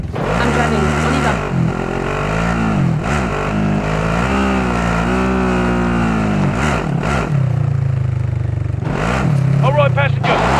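A vehicle driving in Call of Duty Warzone: a loud, steady engine drone that rises and falls in pitch as the throttle shifts, running continuously close by while players talk over it.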